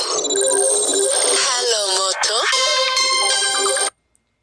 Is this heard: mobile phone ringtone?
yes